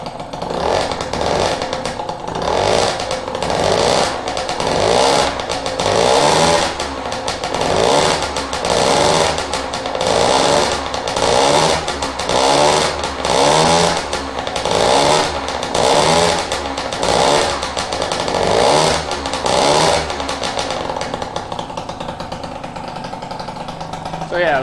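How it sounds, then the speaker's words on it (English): A Peugeot Fox 50cc moped fitted with a Leovince silencer revs loudly in repeated buzzing two-stroke bursts, rising and falling in a steady rhythm close by for the whole stretch. "So now we know how the bike sounds with the silencer"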